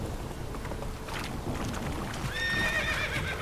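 Geralt's horse Roach from The Witcher 3 gallops with thudding hoofbeats, then lets out a clear, rising whinny near the end, close and fairly loud over wind.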